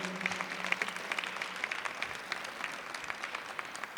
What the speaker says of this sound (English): Graduates, would you please give your friends and family members a round of applause for supporting you?